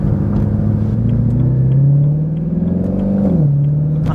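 Melbourne Red BMW E90 M3 slick top with DCT gearbox, no catalytic converters and loud R888 tyres, accelerating hard from inside the cabin: a steady, rising engine drone with a brief dip at a gear shift, loud and close.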